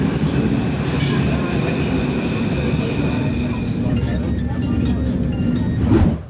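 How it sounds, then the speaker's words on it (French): A Paris metro train rides along with a steady loud rumble and rattle of the carriage, a constant roar that lasts throughout and swells briefly at the end. "donc là on va prendre le métro"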